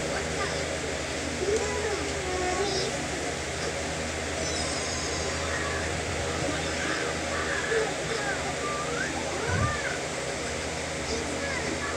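A covered pot of bottle gourd and glass-noodle soup boils with a steady, low rumbling hiss, with faint voice-like sounds in the background.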